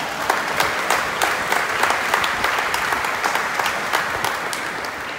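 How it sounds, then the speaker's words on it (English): An audience at a lecture on the Constitution of Belize claps steadily for several seconds, a dense, even round of applause with no voices over it. "Give her a round of applause for me."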